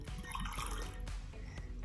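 Water trickles and splashes as it is poured into a container for a kids' snow storm science experiment, a brief soft liquid sound close by.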